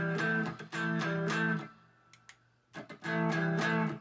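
An electric guitar chugs a muted, driving rhythm riff in tight repeated bursts. It stops for about a second with a few faint scratches, then the riff resumes, close and moderately loud.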